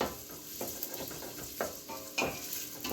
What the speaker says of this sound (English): So now I'm going to add my onion in here. And we are going to saute this for at least 3 minutes.